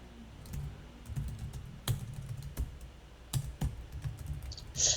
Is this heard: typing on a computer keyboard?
yes